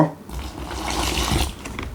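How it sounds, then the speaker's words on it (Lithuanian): A steady rush of water being poured onto fishing groundbait, close and fairly loud, swelling briefly before tapering off. "Užsipilame vandenuku"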